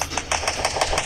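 Gunfire in the video game Garena Free Fire comes as about six quick, evenly spaced shots in a rapid burst, fairly faint and crisp, with no talk over it.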